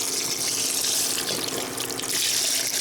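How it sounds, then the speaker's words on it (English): Beef broth pouring from a carton into a soup pot for sausage, tortellini and kale soup, a steady close gushing splash of liquid lasting a few seconds. "I'm going to go on and put the beef broth in here"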